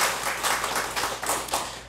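Scattered congregation applause in a Korean church service welcoming the pastor and his wife, a short burst of uneven clapping from a modest crowd with individual claps standing out.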